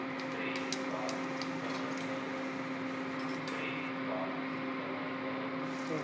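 Cumin seeds are dropped into hot oil while making aloo paratha, producing a steady, loud, crackling sizzle that holds evenly throughout.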